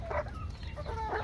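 Chickens clucking inside a farm hut, a few short soft clucks close by over low background noise.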